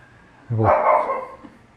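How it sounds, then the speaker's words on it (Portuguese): A single close, loud dog bark with a short whiny tail, standing alone against a quiet background. "Meu cachorro tá latindo"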